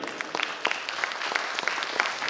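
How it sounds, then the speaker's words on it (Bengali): Audience applause after a call for a big hand at a Rabindra Bhaban event, a dense steady clatter of clapping hands that runs through the whole stretch at moderate loudness, with no voices over it. "উনার জন্য একটা জোরে হাততালি।"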